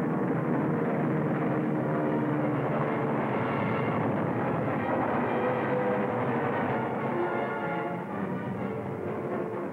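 Dense, steady rumbling roar of aircraft engines during an air battle between American bombers and Japanese aircraft, loud and continuous without clear breaks.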